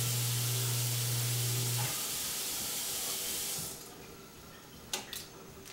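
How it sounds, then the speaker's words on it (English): Water runs steadily from a kitchen sink faucet into a double-bowl sink during a home inspection, a loud close rush that cuts off near the end, followed by a few faint clicks. "Run the water on both sides of the sink to make sure it's not leaking from either bowl."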